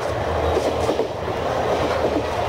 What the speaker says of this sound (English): we're in China, on the train from Chengdu, heading down to Lhasa